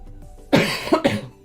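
A single close, harsh cough burst followed by a couple of smaller throat-clearing coughs during a live drawing session.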